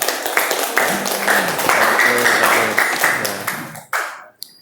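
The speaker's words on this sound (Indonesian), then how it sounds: "Tepuk tangan untuk Novita" Classroom applause for a student named Novita during a sociology lesson, a small group of pupils clapping in a busy patter that swells and then cuts off sharply near the end, with voices mixed in.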